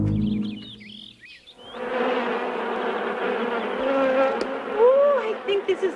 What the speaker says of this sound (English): those bees have been busier than bees